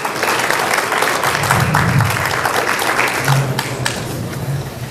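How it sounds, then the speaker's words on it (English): A community meeting audience gives a steady round of clapping, dense and sustained from start to finish, with faint crowd murmur underneath. "So I heard some applause. Let's go ahead and thank them."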